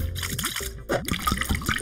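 Water pours into a cup to make a half-paint, half-water mixture for a children's jellyfish craft. A short, close liquid trickle plays under bright, bouncy sliding musical tones.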